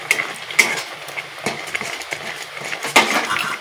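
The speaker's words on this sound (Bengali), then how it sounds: "এবার আমি আমুল দুধ দিয়ে দেবো, ভালো করে ঘেঁটে নেবো।" A spoon stirs Amul milk into a coconut barfi mixture in a pan, giving close scraping and clinking strokes with a few sharper metal taps, steady and mid-loud with no talking.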